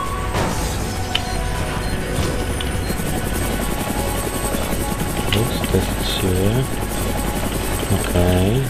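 A steady helicopter rotor drone in the video game Fahrenheit fills the whole stretch, loud and continuous, with a voice talking over it and occasional game sound effects.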